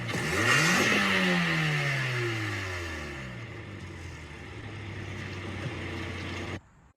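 A stock 1.6-litre Mazda Miata NC engine revs up hard, then its pitch sweeps down and settles into a steady drone before cutting off abruptly, loud and close with no voices.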